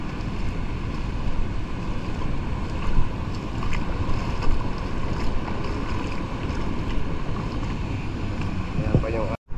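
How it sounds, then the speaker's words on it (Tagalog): Big waves slap and rush beside a small boat at sea, with steady wind buffeting the microphone and a constant roar of water throughout, loud and close. "Malalaking alon mga boss"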